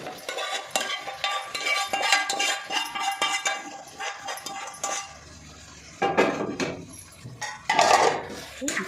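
Mint chicken fry being stirred in a pan, with a utensil scraping and clinking against the metal in irregular bursts, close and fairly loud, and brief pauses between strokes.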